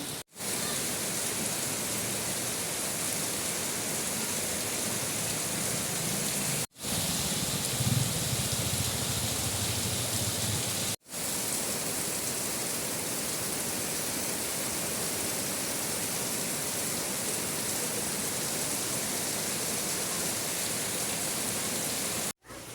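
Very heavy rain pours in a dense, steady hiss that fills the space, broken by two brief cuts, with a faint low rumble partway through and no voices.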